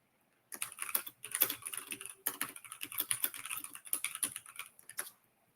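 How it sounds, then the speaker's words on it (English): Typing on a computer keyboard, quick irregular clusters of crisp key clicks in several bursts with short pauses between them, close and fairly quiet, with no voices. "if I start typing"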